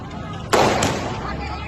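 A loud firecracker bang erupts amid continuous crowd and street noise during a clash between rival teenage groups on a city road, followed by a second, smaller pop.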